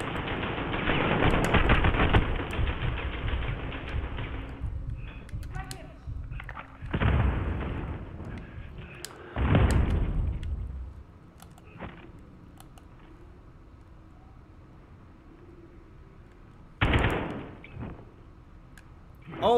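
Grenade explosions in the Modern Warfare (2019) game come as several loud, rumbling bursts: a long blast at the start, others around the middle, and one later. Quieter in-game background sound runs between them.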